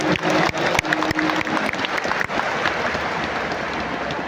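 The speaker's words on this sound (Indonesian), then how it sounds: "Tepuk tangan untuk semua yang sudah hadir di sini." Large crowd applauding at a big open-air election campaign rally, loud dense clapping with a few sharp louder claps standing out early, settling into a steady roar of hands without speech.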